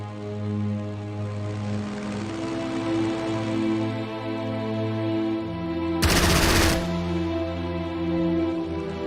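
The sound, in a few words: machine gun fire from aircraft strafing run, video game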